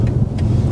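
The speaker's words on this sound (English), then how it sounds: "You have to be listening to that engine." A car engine hums steadily from inside the cabin during a driving lesson, a short, fairly loud low drone with no talking.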